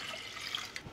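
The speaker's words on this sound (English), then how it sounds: "So to do the syrup, add some water," Water poured into a pot to start a tea and dark rum syrup for rum baba, a soft, brief splashing trickle heard close and alone.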